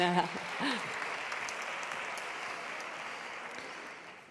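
Audience applause welcoming a speaker at a conference on public libraries, a brief voice at the start, then a steady wash of clapping that fades out, heard at moderate distance.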